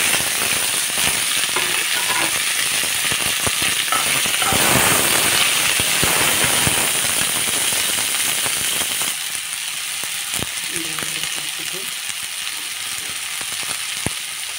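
Ivy gourd and onion frying in a pan give a loud, dense, crackling sizzle that runs continuously, with scattered pops and a few faint utensil knocks, close up and without speech.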